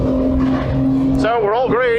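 Race cars accelerate away at the start of a 750mc Roadsports race at Snetterton, a steady engine drone that swells into rising, wavering revs as the pack pulls off. A commentator talks over it throughout.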